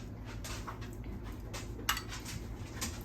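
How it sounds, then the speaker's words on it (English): Spoon stirring pickle seasoning into a two-ingredient pickle pizza dough mixture in a bowl: soft, quiet repeated scraping and clinks in a steady rhythm, with one sharper knock near the middle. "Stir it all together."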